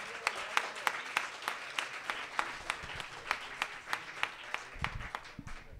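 Scattered, fairly quiet clapping at a science communication event as a guest comes on stage, with a few distinct hands beating in a loose, steady rhythm over soft room noise.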